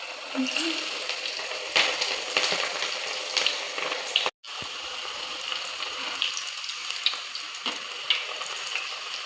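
Cabbage bajji fritters deep-frying in hot oil on a gas stove, a steady close sizzle and bubbling that runs throughout with small clicks and stirring scrapes, briefly cutting out near the middle.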